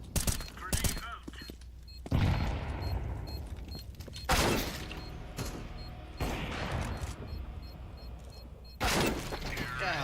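In the shooter game Counter-Strike 2, a thrown grenade and bursts of gunfire ring out as several loud, sharp explosive blasts with ringing decay, separated by brief lulls of game noise and faint voices.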